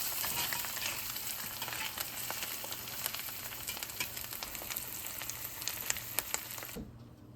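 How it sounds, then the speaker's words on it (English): Eggs fry in a pan with a steady, close crackling sizzle and scattered sharp pops, running alone without talk before cutting off abruptly near the end. "I've got us eggs right here that I'm gonna fry"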